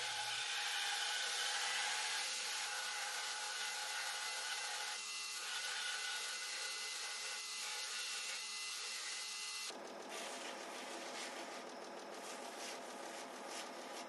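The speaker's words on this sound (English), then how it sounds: "Then I'll grind the front faces of the scales while they're still super glued together." Steady abrasive grinding of the front faces of knife handle scales still super-glued together as a pair, a loud continuous whir that shifts to a rougher, fuller pitch partway through, with no voices.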